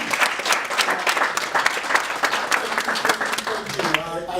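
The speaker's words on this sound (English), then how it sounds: "A round of applause." A roomful of people at a pitch event applauds loudly and continuously, dense overlapping claps close by with a few voices underneath, tapering off at the end.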